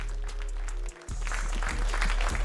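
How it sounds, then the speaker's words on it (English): Crowd applause at a public weigh-in for an OKTAGON fighting event: a dense, loud wash of clapping that runs throughout, with a low steady hum beneath and a momentary dip near the middle. "step out on the left side and give them a round of applause."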